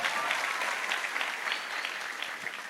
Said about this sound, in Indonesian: Tepuk tangan tuh yo.